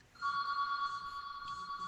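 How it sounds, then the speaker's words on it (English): A telephone rings in the background of a quiet room during a conversation about the practice of law, giving a faint, steady electronic trill with two sustained tones that continues for nearly two seconds. "I apologize for my phone ringing in the back."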